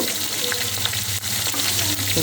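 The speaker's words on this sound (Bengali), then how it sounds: "পেঁয়াজ দিয়ে দিলাম পেঁয়াজটা একটু ভাজা করে নেব" Steady, close sizzling of onions frying in a hot pan, a continuous crackle with occasional soft stirring scrapes.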